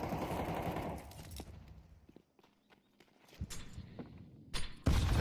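Gunfire in a Counter-Strike match, sharp shots and bursts that come and go over a few seconds, with quieter gaps between them and a loud burst at the end.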